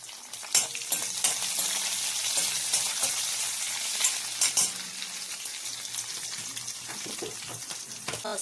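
Green chillies and pounded garlic fry in hot oil in a pan, giving a continuous bright sizzle broken by scattered clicks and scrapes of stirring at close range.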